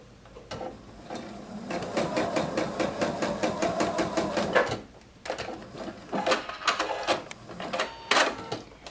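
Sewing machine stitching a quilt corner: rapid rhythmic clattering of the needle in two bursts, a long run then a shorter stop-start stretch, close and fairly loud.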